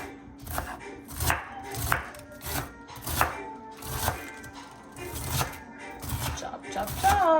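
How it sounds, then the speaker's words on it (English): A kitchen knife chops yu choy on a cutting board in a steady rhythm of about a dozen crisp, close, fairly loud strokes, with a person talking over them. "And so he's gonna cut up the yu choy."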